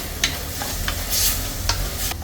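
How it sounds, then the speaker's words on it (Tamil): Spices sizzle and fry in a pan for Tamil-style tomato kadayal while a utensil scrapes and stirs in several short, sharp strokes, close and fairly loud. "சேர்த்துட்டு இதை நல்லா வதக்கிக்கலாம்"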